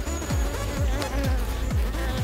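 Honeybees at the hive, several workers on the comb during a check on queen release: a steady close buzz with rhythmic wingbeat pulses repeating about every half second, no voices.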